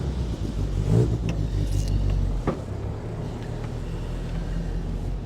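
A 1962 Triumph TR4 Surrey Top roadster driving, a steady low engine rumble with wind and road noise heard from the passenger seat, briefly swelling early on before settling into an even cruise.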